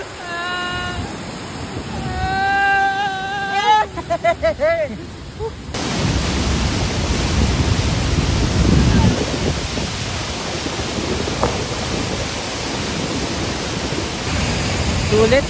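Majayjay Falls pours with a steady, loud broadband roar that fills the air, heard up close; a voice speaks over the rush early on before the water noise takes over alone.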